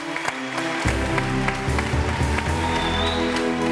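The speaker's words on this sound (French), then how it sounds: "je vais demander à tous les esprits de t'applaudir très fort, s'il vous plaît" An audience claps loudly for an elderly guest on a studio show. Bursts of sharp clapping ride over low, droning background music throughout.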